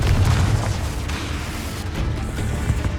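Confringo spell explosion in Hogwarts Legacy, a loud deep booming blast with rumbling low-end that rolls on and swells again near the end.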